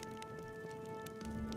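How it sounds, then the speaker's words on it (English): Steady rain falls on a forest canopy and ground, a soft, continuous patter of drops close by with no voices. "the rain is picking up as it's been lately"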